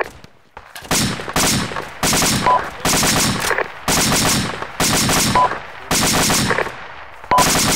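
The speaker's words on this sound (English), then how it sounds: "I'm being fired at." Machine gun fire in a video game, loud repeated bursts of rapid automatic shots separated by short pauses, each burst lasting about half a second to a second, fairly close and dominant.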